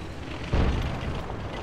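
A single deep boom from an artillery high-explosive round landing in the tank game World of Tanks, heard at moderate distance over steady background battle noise and fading into a rumble.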